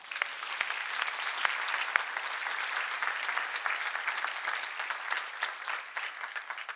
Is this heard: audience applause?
yes